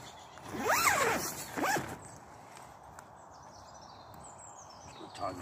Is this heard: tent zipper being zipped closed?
yes